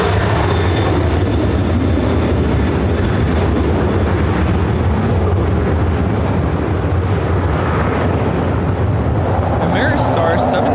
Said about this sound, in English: Arrival is Southwest Airlines 2787 coming in from San Francisco on the